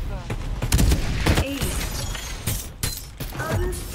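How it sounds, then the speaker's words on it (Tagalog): Gunfire fills a Farlight 84 video game match: repeated sharp bursts and cracks with some breaking and mechanical clatter, moderately loud, while a player talks excitedly over the action. "May bumabaril pa!"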